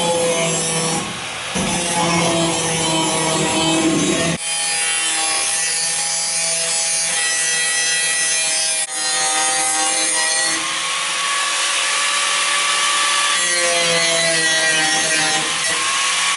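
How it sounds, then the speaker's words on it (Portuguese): A chisel scrapes and rasps against sheet metal on a 1982 Kombi van, close and loud, with repeated grinding strokes and squealing metallic overtones that shift in pitch, briefly pausing between passes. "E aqui agora com a talhadeira eu vou tentar tirar isso daqui com bastante cuidado para não castigar essa chapa aqui."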